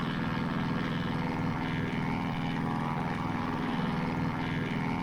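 Christen Eagle II propeller biplane flying in the DCS combat flight simulator, a steady droning engine and propeller hum holding at an even level throughout with no talking.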